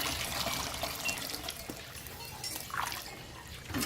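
Rinse water pours and splashes off sticky rice in a continuous, close wash of liquid sound, with a few brief drips and trickles breaking through near the end.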